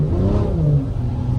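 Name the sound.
BMW M340i accelerating on drag radial tires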